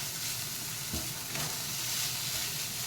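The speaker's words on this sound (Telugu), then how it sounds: "ఈ లివర్ని కూడా 2-3 నిమిషాలు చక్కగా వేపిద్దాము, ఆ మసాలా మొత్తం పట్టేటట్టు" Veg liver frying in a pan with cumin powder, coriander powder and garam masala, giving a steady, close sizzle with faint stirring scrapes throughout.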